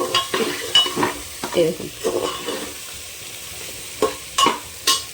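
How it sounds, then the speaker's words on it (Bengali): Tomato, green chili and onion frying in a pan while being stirred: a soft sizzle under repeated scraping strokes of a spatula, close and uneven, with a brief spoken word in between. "আমি একসাথে সবগুলো নেড়ে নিয়েছি ভালোভাবে।"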